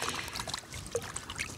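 Fish being rinsed in harbor water at Tuktoyaktuk: faint, close splashing and trickling, with irregular small drips and sloshes.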